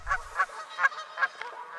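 Geese honking outdoors in the wild, a quick run of about six nasal honks in steady rhythm, moderately close and heard alone without talk.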